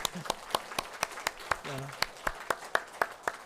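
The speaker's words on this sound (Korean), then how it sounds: "우리 큰 박수로 환영해 주시고" Applause from a church congregation during a Sunday morning service welcoming guests, heard as spaced sharp claps in a roughly regular rhythm, with a brief voice sounding underneath midway.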